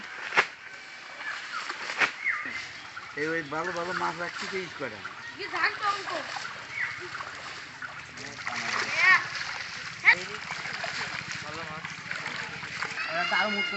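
Fish thrash and splash in a fishing net pulled through water, a steady churning slosh close by, with someone talking over it and other voices nearby.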